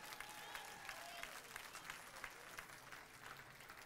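A church congregation claps together in a sustained round of applause, dense and even from start to finish, heard from within the room at a fairly low level.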